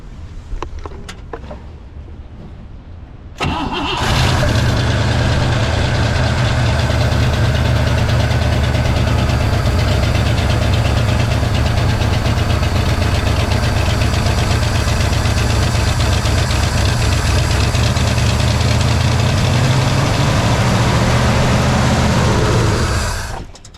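A 1963 Pontiac Catalina V8 being revived fires up after a few seconds of quiet clatter and runs loud and steady, a rough, heavy idle with rising revs held for nearly twenty seconds before cutting off.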